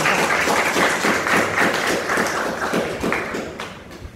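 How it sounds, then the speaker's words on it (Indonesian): Students in a classroom clapping for a group that has just presented, a few seconds of steady, dense hand claps that thin out toward the end. "Tepuk tangan dulu untuk kelompok."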